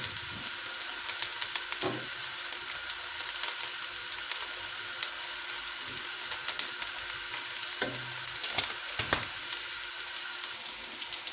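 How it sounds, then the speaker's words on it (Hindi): Ingredients for an egg and peas curry sizzle steadily in a hot pan, a continuous close hiss broken by a few brief stirring knocks, with no talking. "इसको भी हम हल्का सा फ्राई करेंगे"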